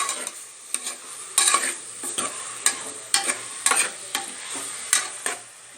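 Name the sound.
onions sautéing in oil in a pan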